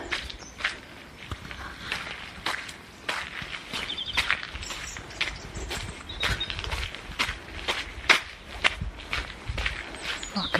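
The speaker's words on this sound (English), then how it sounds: "Sound of my feet in the mud." Footsteps squelch and crunch through mud along a country lane, a steady walking rhythm of soft irregular treads heard close by, with faint birdsong in the background.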